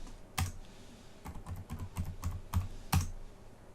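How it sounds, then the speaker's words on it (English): Keys clack on a computer keyboard in a short burst of typing a password, close and distinct with uneven spacing between strokes. "I'm going to put a password in."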